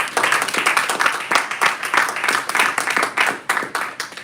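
Audience members at a Toastmasters club meeting in Lagos's EKO Hotel give a round of applause for a speaker, many overlapping sharp claps, fairly loud and sustained, pulsing slightly throughout with no speech on top.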